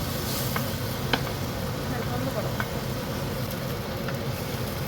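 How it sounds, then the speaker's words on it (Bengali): Mixed vegetables dropped into a boiling poppy seed and mustard paste for a home-cooked vegetable curry, giving a steady close sizzle and bubbling with a few light clinks of utensils. "এটা ফুটে গেলে ভালো করে তখন আমি ঢাকে রাখা সবজিগুলো দিয়ে দিচ্ছি"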